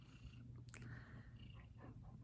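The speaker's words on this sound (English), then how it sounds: "Can you guys hear his purring?" A cat purrs close to the microphone with a steady, low, rumbling vibration that continues for about two seconds, quiet and alone, with no talking.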